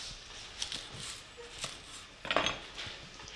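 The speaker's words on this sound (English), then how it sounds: "chop off" A knife chops off the stems of baby leeks on a board, giving a few sharp, separate knocks with a quick double strike near the end, all at close range with nobody talking.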